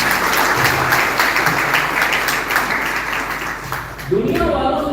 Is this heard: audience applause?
yes